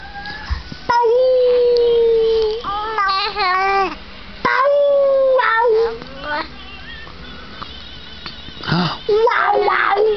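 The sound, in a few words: dog howling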